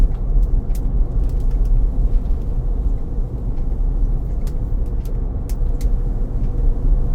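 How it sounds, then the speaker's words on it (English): Cars approach and pass on a wet road in the rain during a drive to Lakeland, a steady broadband tire hiss and road roar filling the clip alone, loud and continuous with slight swells as vehicles go by. "it does look like there's a couple of cars coming ahead of me here"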